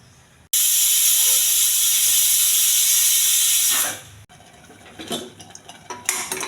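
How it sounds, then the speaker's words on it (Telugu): A loud, steady steam whistle from a pressure cooker cooking millet pongal blasts for several seconds, then cuts off, followed by quieter hissing and clinking. "ఒక 2-3 విజిల్స్ కానివ్వాలి,"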